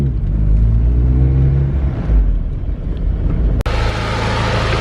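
A Kawasaki KRX side-by-side engine in second gear bogs and chokes out under throttle, a loud low rumble that wavers and fades before a brief cutout, then switches to a broad hissing whir.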